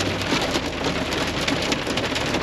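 Hailstorm pelting a vehicle on a road trip, a dense, constant rattle of hailstones drumming on the surface, loud and steady with no voices.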